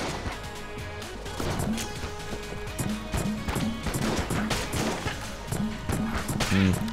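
T-shirt cannon weapon firing in the game Enter the Gungeon: a rapid series of punchy thumps and crashes, irregular and close, mixed with chiming pickup tones and other game effects.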